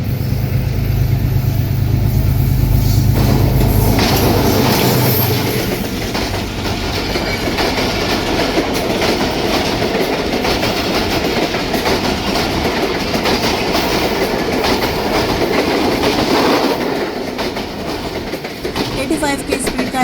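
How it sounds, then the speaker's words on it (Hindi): The 107 Up Islamabad Express runs nonstop through Jhelum railway station on a green signal. Its loud approaching horn gives way to sustained rumbling and clickety-clack wheels as the train rolls past close by. "और ये 107 up Islamabad express signal green Jhelum station पर।"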